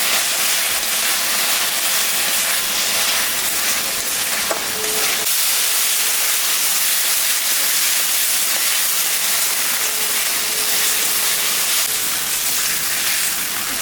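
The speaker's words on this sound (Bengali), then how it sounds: "মশলাটা ভাজা হয়ে গেছে," Spice paste for a spicy puti fish curry fries in a pan, a steady dense hiss and sizzle running throughout with a faint clink near the middle, with no talking.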